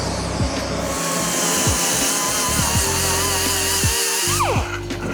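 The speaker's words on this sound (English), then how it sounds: "re-weld it, grind it flat" An angle grinder works a re-welded seam flat on a metal oil tank, a steady high whine with shifting pitch as the disc bites and eases, loud and close throughout.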